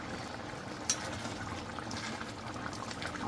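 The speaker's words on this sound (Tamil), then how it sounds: "இது நல்லா கொதித்து வெந்து வரட்டும் மூடி போட்டுருவோம் வாவ் சூப்பராக கொதிச்சிட்ருக்கு" Prawn gravy bubbling away in a covered pan, giving a steady, dense boiling hiss throughout with one brief clink near the start.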